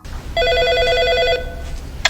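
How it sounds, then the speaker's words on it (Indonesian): A single electronic telephone ring trills for about a second, clear and close, followed by quiet room noise. "Telepon berdering."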